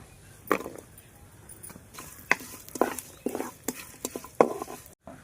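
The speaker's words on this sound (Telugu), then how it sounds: "జీలకర్ర వేసుకుందాం తోలు తీసి ఎల్లిపాయ గబ్బాలు వేసుకుందాం" Cumin seeds and peeled garlic cloves go into a pan, with a few scattered clatters and soft stirring scrapes over a quiet sizzle, close and fairly faint.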